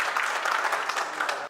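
Audience clapping at a Hindi comedy or poetry stage show, a short, fairly faint burst of steady applause from a crowd, heard alone without talk.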